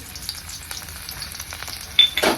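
Chopped garlic cloves frying in a little oil for a chilli condiment, a soft, steady sizzle with light stirring and a brief louder scrape near the end.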